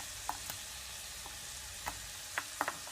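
Garlic and ginger sautéing in butter in a hot pot, a soft continuous sizzle with a few faint scattered ticks and pops, no talking.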